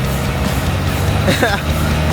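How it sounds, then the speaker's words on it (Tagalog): Turbocharged Toyota Revo diesel at a drag race, a loud steady engine drone with a rising whine mid-way, under someone talking. "for the first time, makakita tayo ng turbocharged na Revo"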